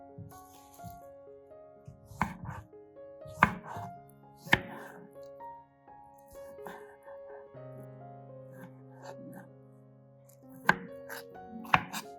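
Tomatoes are chopped on a board with a knife, giving a handful of sharp, scattered chops against soft tonal music playing throughout.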